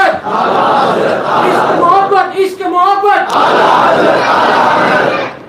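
A large crowd at a religious sermon shouts Islamic slogans like Naara-e-Takbeer and Naara-e-Risalat in loud unison, with a rhythmic call-and-response pattern, voices massed and close.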